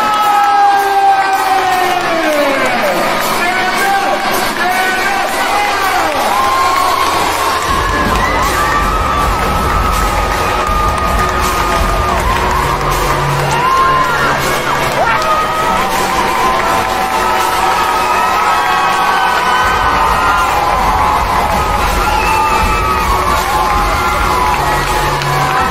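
A crowd cheering and whooping for a drag queen crowned Queen of New York, loud and continuous, with shouts and raised voices over a sustained roar.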